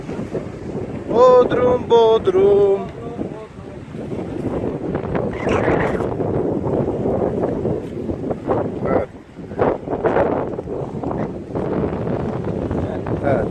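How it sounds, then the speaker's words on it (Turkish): Strong seaside wind buffets the microphone in a continuous roar at a pier in Bodrum, Turkey, with a voice calling out over it near the start. "Oo, hava rüzgarlı."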